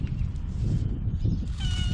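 A cat meows close by, a short drawn-out cry, with a higher thin note at the end.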